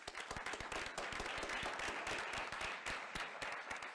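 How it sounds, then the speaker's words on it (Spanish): Audience applause after a panelist is introduced at a quarterly economics meeting on investment and growth in Mexico, dense steady clapping from a mid-sized crowd filling the whole stretch at an even level. "Un aplauso, por favor."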